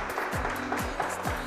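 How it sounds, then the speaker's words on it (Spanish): A short burst of game-show audience applause, dense and steady clapping with a few louder thuds, fairly close and continuous throughout. "Entonces, un aplauso grande."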